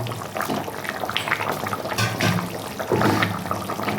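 Fish curry with potato and pointed gourd bubbling at a steady boil, a continuous watery, gurgling wash with no talking.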